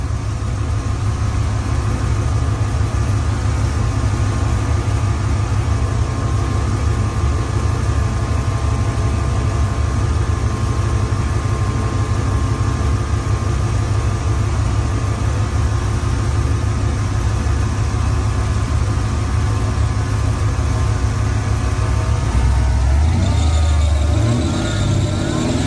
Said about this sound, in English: So now both fans is running.